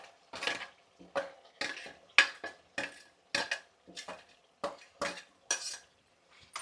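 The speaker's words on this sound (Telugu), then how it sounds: "ఇప్పుడు ఇది ఒకసారి కలుపుకుందాము. ఇది బాగా కలాలన్నమాట." A spoon scrapes and clatters against a cooking pan as coriander paste with turmeric is stirred in, about ten regular, sharp metallic strokes with brief gaps between them, close and moderately loud, with no talking.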